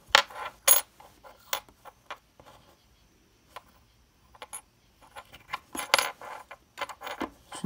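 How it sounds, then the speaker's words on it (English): Two old keys, dug up while metal detecting at a 1700s house site, are handled in bursts of light metallic jingling and clinks, with quiet pauses between the clusters of sound. "And then I found these two keys."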